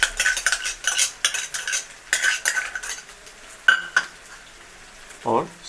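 Masala pasta spices are stirred in a pan, producing bursts of rhythmic scraping and spoon strokes, a couple of sharp metallic clinks and a light sizzle underneath.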